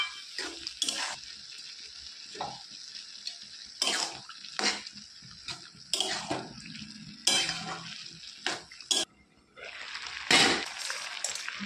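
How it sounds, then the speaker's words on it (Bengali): Water goes into a pan of cooking prawn curry, with bursts of splashing and sizzling mixed with spoon scrapes and clinks against the pot, close and intermittent, without talk. "এই অবস্থায় আমি এতে আরও ভালোভাবে সেদ্ধ হওয়ার জন্য জল দিয়ে দিচ্ছি।"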